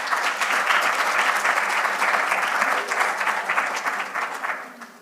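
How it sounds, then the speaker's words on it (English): A room full of people applauding at a research symposium, dense steady clapping that holds for several seconds then gradually thins out. "Let's give our presenters one more round of applause."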